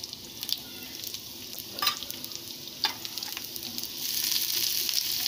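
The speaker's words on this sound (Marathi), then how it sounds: "पॅन गरम झालं आहे, आता तेल टाकते त्यात। उभा चिरलेला कांदा टाकायचा" Sliced onion sizzles in hot oil in a pan, a steady close frying hiss with a few sharp crackles and scraping stir sounds, growing louder near the end.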